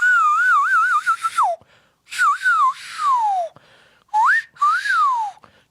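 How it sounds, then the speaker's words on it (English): A nose flute worn over the mouth and nose and played by breathing through the nose gives three bursts of clear, breathy whistling melody, sliding and wavering in pitch, close and fairly loud, with short silences between phrases. "it goes over your mouth and your nose, and you simply play by breathing through your nose"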